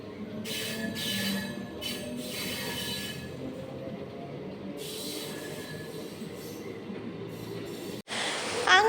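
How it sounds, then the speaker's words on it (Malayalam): A train rolls slowly into a station with a steady low rumble and repeated bursts of high metallic wheel squeal, loud and near, while faint voices murmur in the background. "ഞങ്ങളുടെ ട്രെയിൻ അവിടുന്ന് മന്ദം മന്ദം വരുന്നുണ്ട്"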